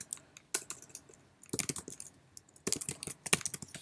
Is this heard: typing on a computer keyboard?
yes